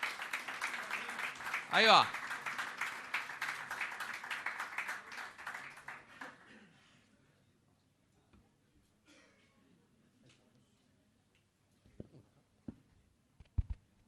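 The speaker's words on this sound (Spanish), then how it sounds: "fuerte aplauso para recibirlo" An audience gives a round of applause to welcome a speaker, with brisk clapping over the first six seconds. It fades into near silence with a few scattered taps, and a voice speaks briefly.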